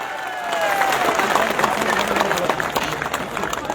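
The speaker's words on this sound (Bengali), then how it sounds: "সবাই একটু হাততালি দেবেন না?" A rally crowd at an open-air ground in Domkal, Murshidabad, claps steadily in a dense, continuous wash of applause mixed with crowd murmur, fairly close and loud throughout.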